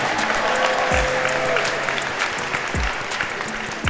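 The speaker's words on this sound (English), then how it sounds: "y'all give him a round of applause to Pizza Hut" A convention crowd applauding steadily for several seconds, clapping dense and fairly close, with a few low thumps and bits of voice in the mix.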